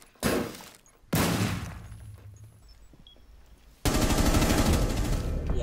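Video game gunfire shooting through a wall, loud close bursts of rapid automatic shots in three separate strings, the last one sustained and dense.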